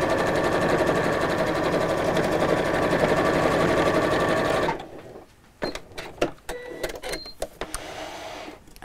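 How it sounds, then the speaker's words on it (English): A sewing machine set to a longer stitch runs a steady, loud seam along a messenger bag strap for several seconds, then stops abruptly, leaving a few scattered clicks and handling taps. "So I'll lengthen mine to a 3 on this machine, and I'm just going to sew about 1/4 inch from each side of the strap."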